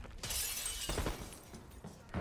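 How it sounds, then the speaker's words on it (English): A glass door shatters in the shooter game Black Ops 6, a near, bright crash of breaking glass with scattering shards that fades over about two seconds, with faint game noise behind. "Apparently there was a glass door there."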